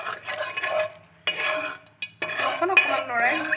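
Salt being stirred into cooled oil for homemade mango pickle, a spoon scraping and clinking against the pot in close, irregular strokes with brief pauses between bursts.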